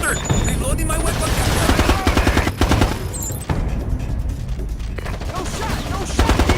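Rapid automatic bursts and volleys of gunfire in Ghost Recon Advanced Warfighter, loud and close, with steady rhythmic rattling, a brief dip midway, then sustained fire again.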